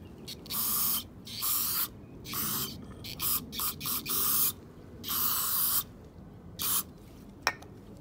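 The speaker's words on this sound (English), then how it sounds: "Let's spray this thing." Aerosol throttle body cleaner spraying from a can onto a car's throttle body, in a series of close, loud hissing bursts of varying length with short pauses, the last few brief.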